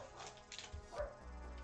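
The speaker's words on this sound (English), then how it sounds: "Sorry about the dog." A household dog lets out a brief, muffled bark and whimper in the next room during a LEGO build, faint and somewhat distant, lasting under two seconds against a quiet indoor background.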